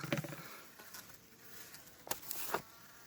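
Honeybees buzz around an open hive during a beekeeper's inspection of fresh comb, a faint, steady drone with a few louder passes and light patter close by.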